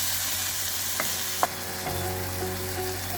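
Tomatoes sauté in a pan for a vegetarian ayirai-style fish curry, making a constant close sizzle with a few light clicks from stirring and no voices.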